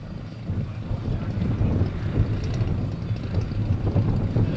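Strong wind buffets the microphone at an airfield where a Fokker triplane is being walked out, producing a loud, continuous low roar that swells and dips with the gusts. No one talks.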